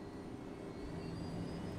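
A helicopter aboard the warship Reuben James in a naval video game gives off a steady, continuous engine and rotor drone, moderately loud and unbroken, with no speech over it.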